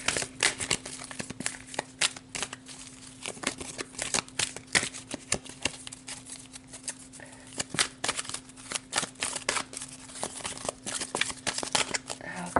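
Oracle cards are shuffled close up in quick, papery riffles and taps, repeating irregularly over a faint steady hum.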